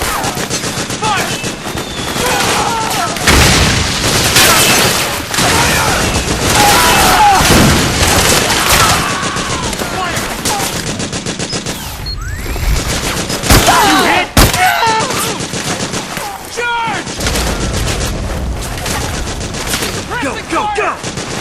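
Dense, sustained gunfire from the video game Metal Gear Solid 4, with rapid machine-gun bursts and booming blasts layered over a busy battle din, loud and continuous for about twenty seconds with shouted voices mixed in.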